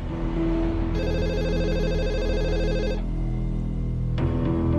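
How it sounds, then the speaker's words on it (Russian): A telephone rings in a repeating electronic ring for about two seconds, then stops, with a steady low background hum and no talk. "Давай же, ответь на звонок."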